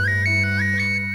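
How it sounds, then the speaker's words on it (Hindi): A phone ringtone plays a repeating melodic electronic pattern, steady and fairly loud, with no voices over it. "Just my phone is ringing."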